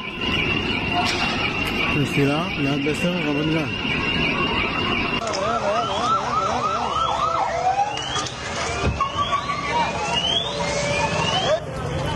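Ambulance and fire brigade sirens wail in rising and falling sweeps at a burning building, several overlapping at once amid street noise, with a voice talking over them.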